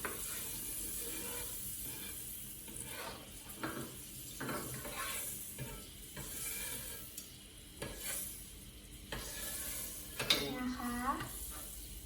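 Butter melts and sizzles softly in a pan over low heat, a low steady hiss broken by stirring scrapes and light clatter, with a voice briefly talking near the end.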